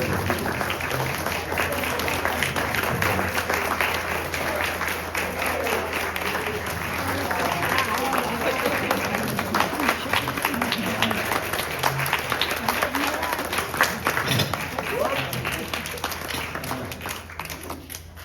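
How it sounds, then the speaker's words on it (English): An audience applauds continuously at an award ceremony, a dense steady roll of clapping with some crowd noise and voices mixed in throughout. "let's stand and cheer for Miss Faggy Cohn."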